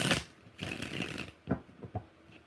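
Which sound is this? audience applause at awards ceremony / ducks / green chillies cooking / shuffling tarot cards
shuffling tarot cards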